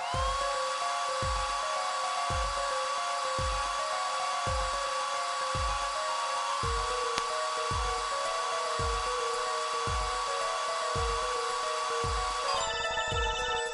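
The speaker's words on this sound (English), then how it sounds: "Just press X to blast it with that dryer." A hair dryer blasts plaster dry in the Apollo Justice: Ace Attorney video game, a loud steady electric whine under a repeating beat of game music, ending with a short burst of chime-like effects.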